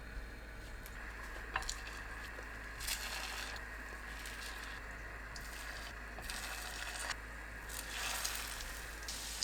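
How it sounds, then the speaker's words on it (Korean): Egg-coated lotus root slices frying on low heat in an oiled pan, with a soft, continuous sizzle that swells and fades slightly, quiet and close, without any talking. "팬에 식용유 두르고 예열합니다. 약불로 낮추고 연근에 계란 입혀 올려주세요."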